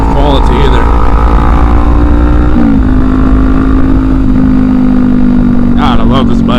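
A Kawasaki Ninja 400 motorcycle engine hums steadily at cruising speed on a rough road, a constant loud drone with a brief pitch shift midway, plus wind rush, and a rider talks over it near the end.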